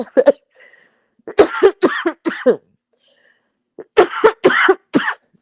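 Harsh coughing fits, close and loud: a burst of several coughs, a pause, then another cluster of rough coughs.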